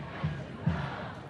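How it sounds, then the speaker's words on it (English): A crowd of hundreds chanting at a nighttime street demonstration in the rain, a diffuse, distant mass of voices with two brief rhythmic swells rising above the murmur. "Chants of stand with Ukraine and stop Putin from this crowd of hundreds in the rain here tonight."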